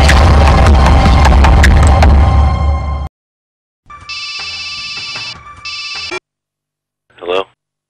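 A telephone rings in electronic bursts in a short-film scene, a repeated tone heard alone after a noisy opening, followed by a brief short sound.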